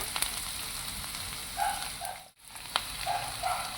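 Ganike greens (black nightshade leaves) fry in a hot pan with a steady, soft sizzle, broken by a few faint clinks of stirring and a brief dip near the middle.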